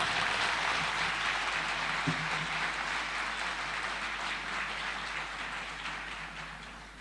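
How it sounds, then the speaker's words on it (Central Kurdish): Audience applause fills a Yalda night gathering, a steady dense wash of clapping that stays broad and sustained throughout, easing off only slightly toward the end. "با چەپڵەکانتان ئەم شەو بەردەوام بێت"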